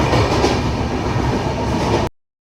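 A moving train heard from inside a carriage as a loud, steady rumble of wheels on track with a faint rhythmic clatter, cutting off abruptly near the end.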